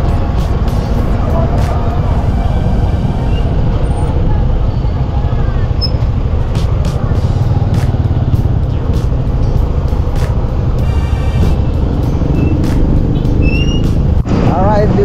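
Busy road traffic in Lipa, Philippines, with cars and buses rumbling steadily close by, a few brief high squeals and air-brake hisses rising over the dense drone, and voices faintly mixed in.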